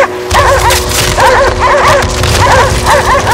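Dogs bark repeatedly in the video game Cryostasis, loud, close and in rapid bursts of yips and barks that continue throughout, with no talking.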